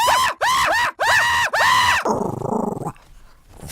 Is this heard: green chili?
no